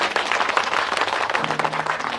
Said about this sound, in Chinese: 大家鼓掌欢迎。